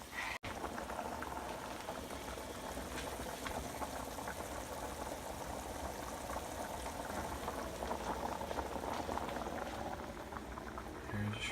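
A pot of shrimp étouffée bubbles steadily at a boil, a continuous soft gurgling and popping close by, with no talk.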